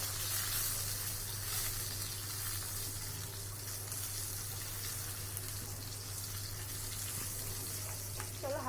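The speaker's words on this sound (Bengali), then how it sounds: "চলো হালকা করে একটু ফ্রাই করে নিই।" Potato and eggplant pieces frying in a pan give off a steady, soft sizzle that holds evenly throughout, with a low hum underneath.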